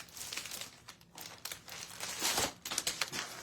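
Thick heavy-duty plastic bag crinkles close up while orders are packed, irregular crackling bursts of handling that swell and fade for a few seconds.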